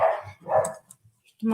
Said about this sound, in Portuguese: Tem um cachorro latindo de vez em quando